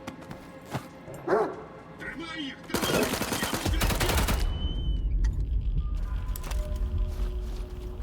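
In the video game S.T.A.L.K.E.R. 2, a dog barks and yelps as it attacks amid bursts of gunfire, with sharp shots and a sustained loud volley of firing, while someone talks over the action.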